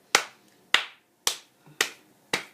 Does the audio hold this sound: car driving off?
no